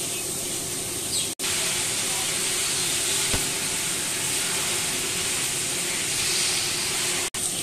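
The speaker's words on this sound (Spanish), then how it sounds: "para que no se queme la carne, mezclamos un poquito y sofreímos la verdura" Meat and vegetables for a mixed paella sizzle in a paella pan, a steady, dense frying hiss that runs without a break at close range.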